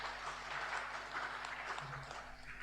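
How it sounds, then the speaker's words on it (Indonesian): An audience at a Bible school graduation ceremony applauds steadily, with a broad, moderately faint wash of clapping that carries on throughout. "Tepuk tangan Bapak Ibu."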